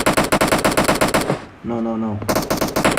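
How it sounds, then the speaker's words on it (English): Rapid automatic gunfire rattles in PUBG, loud and close, in fast bursts broken by a short pause where a voice briefly speaks, then the shooting resumes. "The hell is shooting?"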